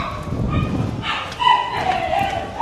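Dogs bark in the distance in a village in Tenerife over steady outdoor background noise, a few yips rising and falling.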